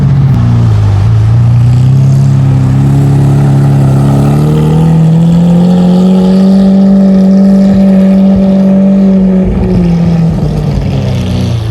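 A Lamborghini Aventador LP-700 pulls away from a stop and drives on, its engine a loud, steady drone that rises gradually in pitch as it gathers speed and then eases back near the end, with no talk over it.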